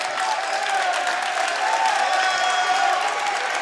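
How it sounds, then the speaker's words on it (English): A crowd and players at a high school boys basketball game, Fairfield Warde at New Canaan, keep up loud, sustained clapping, a dense, even wash of applause throughout. "Every fan is clapping."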